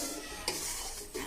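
Cashews and raisins fry in a pan for suji and coconut laddu, giving a faint, steady sizzle with a soft scrape as they are stirred.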